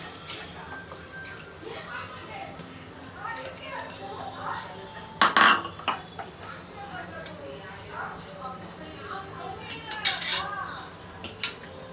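A steel pressure cooker is set up on the stove as washed toor dal and water go in, with metallic clinks, clatters of utensils and a couple of louder knocks over a quiet kitchen background.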